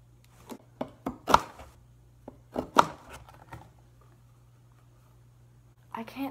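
A kitchen knife with rusty-era tools nearby chops or cuts in a few sharp, separate strokes, close and fairly clear, with pauses between them and a faint steady hum underneath.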